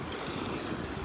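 Surf washing onto a pebbly, rocky seashore in Europe at sunset, a steady close wash of waves with wind noise throughout and no talking.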